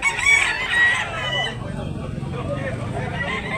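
A gamecock rooster crowing at a chicken market in Talisay, Tabunok, with a loud, drawn-out crow at the start and other birds clucking under nearby talk.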